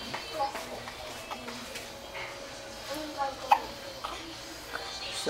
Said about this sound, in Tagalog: sinisinok-sinok naman